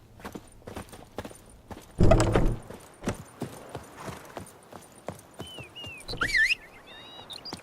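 Horse hooves clip-clop in a steady walking rhythm in The Witcher 3, close and moderately loud, with a louder burst partway through and a short whinny-like cry near the end.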